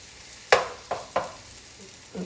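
Mushrooms hit a hot pan in a home kitchen, giving a few sharp sizzling bursts spaced unevenly over a faint background crackle, close and fairly quiet.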